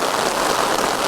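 Heavy monsoon rain falls in Rishikesh as a dense, steady hiss of water on surfaces, close and constant with no other sounds and no speech.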